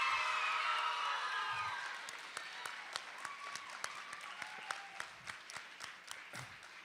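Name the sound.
audience applause at student media awards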